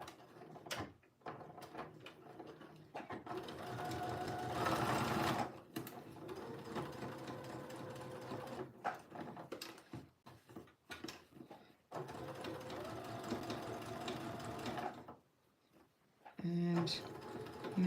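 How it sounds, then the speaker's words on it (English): A sewing machine runs basting stitches on jeans, whirring loudly and steadily in several long runs separated by brief pauses, with a person talking over and between the runs. "This one I'm going to start with the basting so I don't have to change my stitch length."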